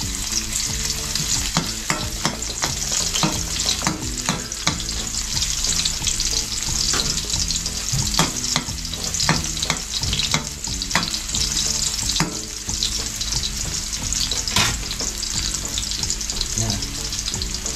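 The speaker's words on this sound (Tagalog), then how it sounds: "Tapos, lagay na po natin yung bawang." Garlic frying and sizzling steadily in a pan while being stirred, producing a constant loud crackle with frequent scraping clicks from a utensil and no speech.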